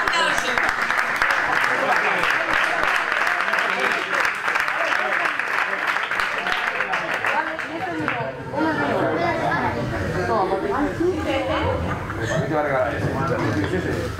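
A crowd at a Cantabrian boxing gala awards ceremony applauds steadily for several seconds, then the clapping gives way to chatter and a voice talking over the murmur of the hall.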